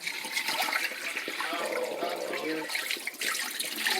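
About five pounds of rice rinsed under running water for Jamaican rice and peas, a steady close rush of tap water and sloshing grains, continuous and fairly loud throughout.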